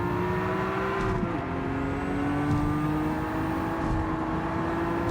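Race car engine in Gran Turismo 7, a steady loud drone holding pitch with a brief dip and shift near the start, continuous and alone with no talk.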